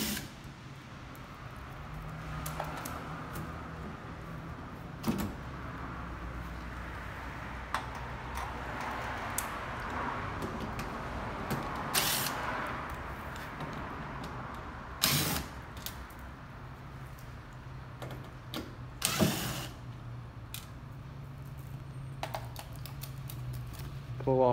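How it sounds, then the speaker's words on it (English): Panels are unscrewed and pulled off the cabinet of a Goodman package unit, giving a run of light mechanical ticks, clicks and creaks with a few sharper metallic knocks against steady background noise, while a voice talks throughout. "First thing we're doing is just unscrewing the cabinet."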